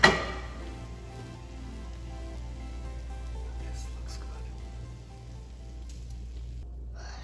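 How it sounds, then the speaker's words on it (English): Steady hissing sizzle of a pasta frittata frying in a pan, continuous throughout, with a person speaking briefly over it. "The sound of a frittata di pasta. The sizzle."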